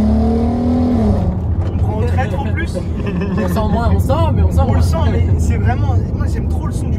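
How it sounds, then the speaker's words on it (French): A Volkswagen Golf 5 R32 engine hums and rises in pitch through repeated revs, steady and fairly loud, while people talk excitedly over it. "j'aime trop le son du moteur"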